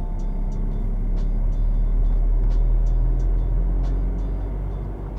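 A car accelerates gently during a driving lesson, a steady low engine hum heard from inside the cabin with a faint rhythmic ticking, like a turn signal, running over it.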